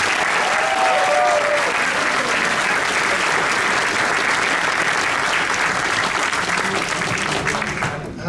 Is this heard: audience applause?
yes